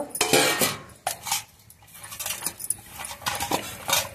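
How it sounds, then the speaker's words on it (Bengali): Metal pan lid lifted off a pan while making cauliflower paratha, with bright clattering and clinking metal contacts, one sharp knock and a run of scraping rattles, close and fairly loud, no voices. "ঢাকাটা খুলে নেব"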